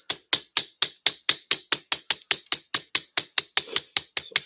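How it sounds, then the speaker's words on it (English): Steady hammer blows flattening a piece of metal for decoy making, about eighteen sharp ringing strikes in an even rhythm, close and clear with nothing else over them. "I am going to hammer it out again, hammer that flat"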